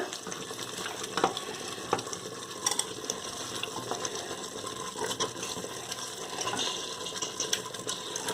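Three-quarters of a kilo of chicken for a ground-masala chicken kuzhambu curry is stirred and sautéed in a pan, giving a steady sizzle broken by irregular scraping and clattering stirs, close and without talk.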